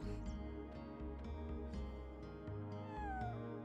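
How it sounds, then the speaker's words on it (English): A cat meows in the Chrono Cross video game, one short high meow at the start over game music, with a faint second call near the end. "Oh, that meow was really good."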